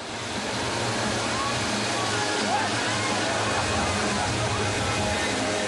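Dense, constant rush of water pumped through the FlowRider wave simulator aboard a large cruise ship, a loud roaring wash with voices faintly mixed underneath.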